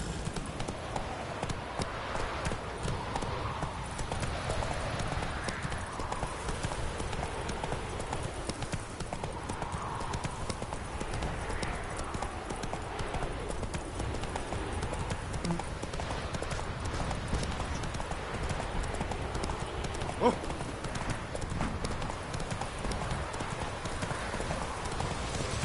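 Horse galloping along a road in The Witcher 3: Wild Hunt, a fast, steady run of rhythmic hoof clip-clops close by, continuing throughout with a faint background of ambient noise.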